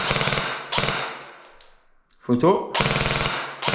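A CZ Scorpion EVO airsoft AEG fires a short three-round burst: a quick, loud rattling cluster in the middle, set between stretches of speech.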